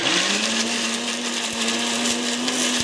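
A mixer grinder crushing ivy gourd chutney whirs loudly at a steady pitch, its motor droning continuously with a few brief dips as it crushes the contents.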